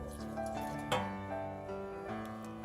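Foamy activated yeast mixture being poured into a bowl for Ghanaian buffloaf dough, a soft liquid drip and splash with a brief sharper plop, quiet against a faint humming background.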